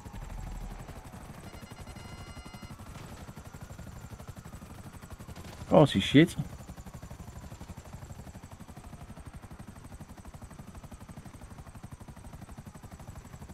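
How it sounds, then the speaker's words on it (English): Helicopter in the video game GTA V, a steady whirring rotor drone with a rapid pulsing texture throughout, briefly broken by a burst of loud bangs, with someone talking over it. "Where's the helicopter gone?"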